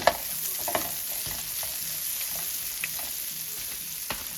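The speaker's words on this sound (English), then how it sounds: "saute those a little bit." Onions seasoned with salt and pepper sauté in a pan, giving a continuous soft sizzle with scattered stirring scrapes and taps close by.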